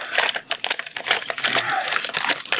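Kit pieces are tipped out of opened packaging, giving a close burst of plastic crinkling and rustling with rapid, irregular crackles.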